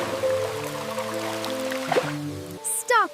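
A cartoon rain puddle gives a brief wet splash and squish near the end, after sustained musical tones, with no talking over it.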